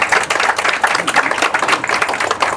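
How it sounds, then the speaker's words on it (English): A crowd at the grand opening of the Sandwich Chamber building applauds Peter Dubay. The clapping is steady and close, and it fills the whole moment without a break. "So please, round of applause for Peter Dubay."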